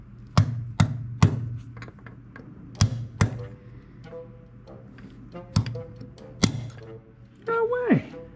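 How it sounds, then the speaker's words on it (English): Sharp metallic taps from a brass rod punch being hammered to drive a wheel bearing seal into a Kubota M4900 tractor hub, about ten irregular close strikes with a brief voice near the end. "we're going to push it in with a little bit of a, like a punch, like a brass rod"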